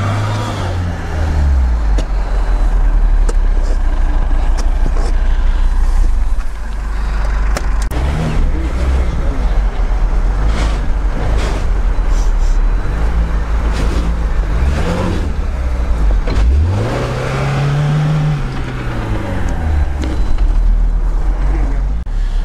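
A stuck 4x4, dug into soft ground during an off-road drive test, roars in a loud, sustained engine rev that rises and falls in pitch, with heavy low rumble and strain throughout.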